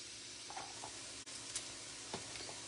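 Mushrooms fry in a skillet over medium-high heat, giving a constant close sizzle with a few soft stirring scrapes and clicks, and no talk.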